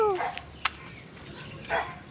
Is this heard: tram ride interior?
no